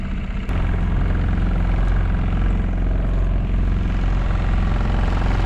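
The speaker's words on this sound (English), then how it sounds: "It's quiet, except for the sound of my engine." Small dinghy outboard engine droning steadily and loudly up close on a quiet morning, a constant buzzing hum with no speech over it.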